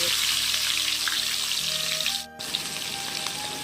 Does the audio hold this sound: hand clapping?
no